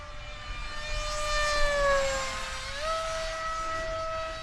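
An FF-35V2 RC plane with a 6-inch prop cruises at just over half throttle, its whining motor tone sliding down and then back up as it passes at moderate distance, faint over wind.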